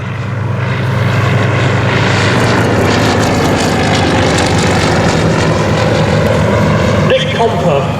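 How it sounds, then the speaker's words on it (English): A Comper CLA-7 Swift propeller plane climbs at an airshow, its engine droning loud and steady close by, with a commentator talking over it. "climbing to height, and in front of us, the Compa CLA-7 Swift"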